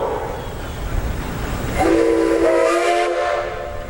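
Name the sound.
whistle of Craig Clark's Baker steam traction engine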